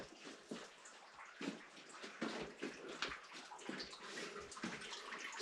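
Water dripping and trickling steadily in a flooded mine shaft deep underground, a busy wet patter of drops and flowing runoff echoing close by with no talk.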